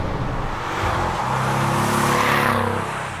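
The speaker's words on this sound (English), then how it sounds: "listening to the low and juicy rolling of the exhaust" A Porsche 718 Cayman with the 2.0-liter engine and sports exhaust rolls along with a low, steady exhaust drone and a broad rushing noise, swelling slightly louder partway through.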